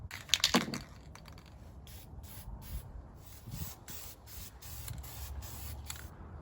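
Spray paint hisses onto rally wheel rims in a steady black coat, with a brief loud rattle near the start and then soft continuous spraying, close and quiet with no voices.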